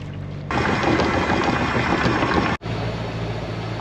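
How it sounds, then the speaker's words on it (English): A sailboat's engine idles while warming up at anchor, a steady, loud mechanical drone that starts abruptly, cuts out for an instant, then carries on evenly. "I'll get the engine started and let that warm up while we're hauling anchor"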